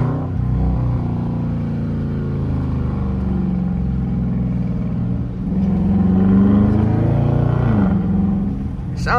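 A car engine idles and revs steadily during a test drive, with a faint whine riding above the low rumble; the pitch rises briefly near the end.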